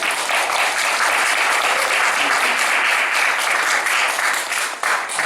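A church congregation at an evening worship service breaks into sustained, dense applause, loud and even for several seconds before tapering slightly.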